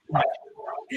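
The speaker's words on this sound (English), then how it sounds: "No, my dog's barking." A pet dog, one of two in the house, gives a couple of quick close barks and yips, loud and abrupt, within about a second, with a possible voice mixed in.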